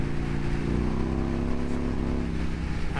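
A vehicle rides over a bridge during a rain ride, with a steady, loud engine drone and rolling road noise holding throughout the short stretch.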